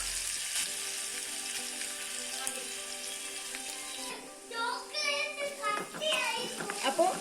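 Mustard seeds crackle and sizzle in hot oil for a fish pickle, a steady frying hiss with ginger and garlic nearby, while voices talk over the second half.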